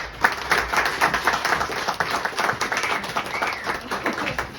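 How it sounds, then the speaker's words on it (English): Audience applauding in a tavern, a dense burst of clapping close by that rises and then trails off unevenly, with no talk over it. "Can we give them a round of applause, please?"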